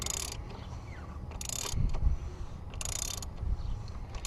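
A 36mm socket on a ratchet loosens the oil filter housing on a 2003 BMW 330i, giving three short bursts of rapid metallic ratcheting clicks over a low background hum.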